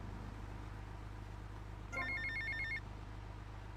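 A payphone in Grand Theft Auto Vice City rings once, a bright electronic trill lasting under a second over a steady low hum, clear and close with no speech.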